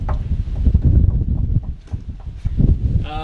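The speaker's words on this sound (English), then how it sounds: "Yeah, it's a bit windy out here." Gusty wind buffets the microphone outdoors beside a lowered Holden Commodore during an oil change, a loud low rumble rising and falling in uneven gusts with no talking.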